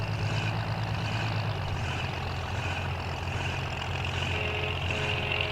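A drag racing car idles in the pits at a dragstrip, a heavy, steady low rumble that holds constant throughout with no breaks.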